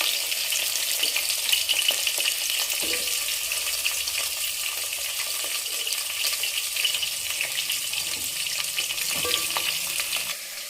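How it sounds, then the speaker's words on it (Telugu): Drumstick and radish pieces sizzle steadily in a hot pan, a dense, even hiss of frying that carries on throughout with occasional faint stirring scrapes. "మునక్కాయ ముక్కలు, ముల్లంగి, ముక్కలన్నీ వేసుకుందాం అండి."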